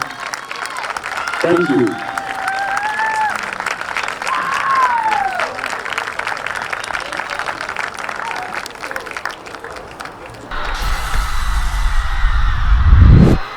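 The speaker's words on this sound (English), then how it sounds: "Ladies and gentlemen, one more round of applause for all of our seniors and all of their hard work." Crowd at a high school girls' soccer game applauds seniors during Senior Day festivities at a stadium, sustained clapping and cheering from the stands, with a brief thank-you spoken and a loud rumble near the end.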